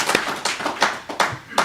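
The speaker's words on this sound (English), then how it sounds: "Round of applause for Scott for his job." Brief scattered hand clapping at a commission meeting, a handful of separate claps heard close and fairly quiet.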